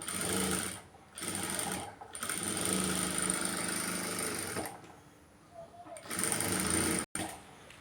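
A sewing machine stitches the back neck joint of a blouse with a square-shaped neck in loud close bursts, pausing briefly several times between runs, with someone speaking faintly over it at points.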